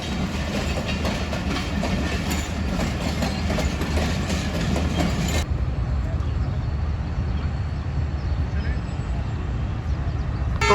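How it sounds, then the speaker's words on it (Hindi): A loud ZCU20 diesel locomotive hauls the Allama Iqbal Express past at Lahore Railway Station, with a steady engine roar and clattering wheels that continue without pause. "एक शोर मचाता हुआ ZCU20 अल्लामा इकबाल एक्सप्रेस को लीड करके जा रहा है सियालकोट तक"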